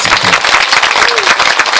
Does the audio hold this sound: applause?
yes